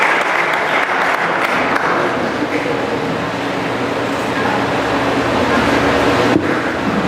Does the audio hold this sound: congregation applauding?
yes